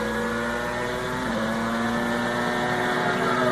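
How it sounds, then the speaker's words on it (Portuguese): A 1994 Formula 1 car driven by Nigel Mansell at the European Grand Prix qualifying session accelerates hard with a steady, loud high-revving engine whine that holds close throughout, with rising harmonic tones as it passes behind the commentary booth. "Aí Mansell acelerando o fundo. Passa exatamente aqui atrás da cabine onde nós estamos."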